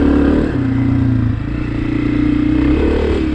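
A 2023 Honda CRF250F dirt bike engine drones loudly and close while riding, pitch shifting between gears with a brief lull and renewed pull.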